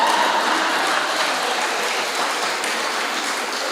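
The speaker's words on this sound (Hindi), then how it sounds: "पर यहाँ तो तालियां भी बजा रहे हैं" An audience claps steadily throughout at a live comedy performance, a dense even wash of many hands that holds at a constant level, fairly close, with no talking over it.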